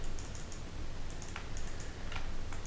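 Quiet, steady keyboard typing with rapid, irregular key clicks running throughout, no voices.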